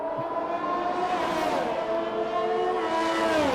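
Formula 1 race car engines in the F1 2021 video game, a loud sustained high-pitched whine of several cars with pitch sliding up and down as they shift and corner, continuous throughout.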